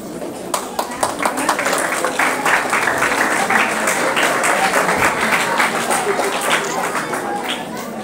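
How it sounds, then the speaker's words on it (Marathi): Applause from an audience at a felicitation ceremony for a women and child development department school admission event, dense steady clapping filling the whole stretch with some crowd murmur underneath. "सर्वांनी टाळ्या वाजवायचे"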